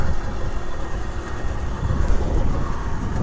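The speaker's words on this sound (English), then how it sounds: "It rolls really nicely. It zooms right along. Little 50cc motor." A 1970 Harley-Davidson M65S with a small 50cc engine runs steadily while riding along, a constant rough buzzing drone with wind noise, close and fairly loud, and no talking.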